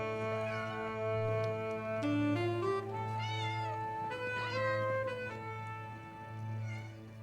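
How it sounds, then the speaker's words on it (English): Several domestic cats meow repeatedly in a garden at night-time feeding, overlapping rising and falling calls at moderate distance with a steady low hum underneath. "feeds more than 12 cats every night in her garden"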